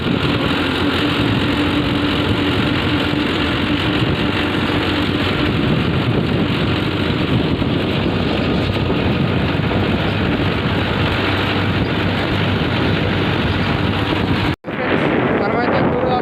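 A tractor running without a trailer, driving empty, makes a steady engine drone heavily buffeted by wind noise throughout, with a brief dropout near the end.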